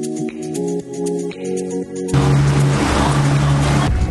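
A longtail boat runs on the open sea near Maya Bay, Thailand, its droning engine rising into loud rushing water and wind noise as the hull speeds along.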